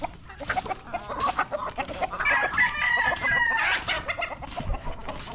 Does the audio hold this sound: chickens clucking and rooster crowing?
yes